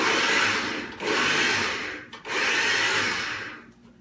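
A kitchen food processor pulses chickpeas for burgers in three loud whirring bursts, each about a second long with brief pauses between, close by.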